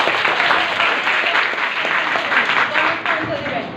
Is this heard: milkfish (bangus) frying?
no